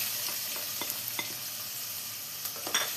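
Two finely chopped onions fry in a pan for a chicken dish, a soft steady sizzle broken by light stirring clicks and scrapes, close but fairly quiet, with no one speaking.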